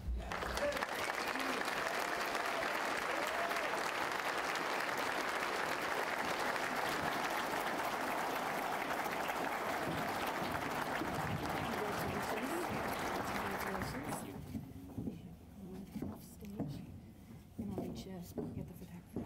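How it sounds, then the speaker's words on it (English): A crowd at a business community service awards ceremony applauds loudly and steadily for a long stretch, then the clapping drops away to quieter room sound and scattered noise. "Let's give them a round of applause."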